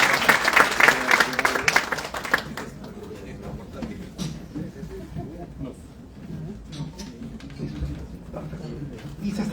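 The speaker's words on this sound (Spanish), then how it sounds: "Un fuerte aplauso para él, por favor." Attendees at a tourism forum on air connectivity applaud a guild member with a brief burst of clapping that fades after about two seconds, followed by quieter room sound and a speaker talking.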